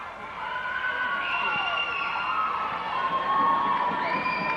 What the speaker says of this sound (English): Gate City's crowd going wild.